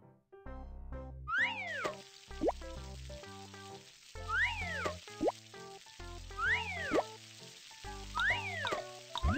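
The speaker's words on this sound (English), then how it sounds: "Grill these meat patties!" Cartoon meat patties sizzle on a grill with a steady hiss under bouncy music, repeated boing and plop effects on top.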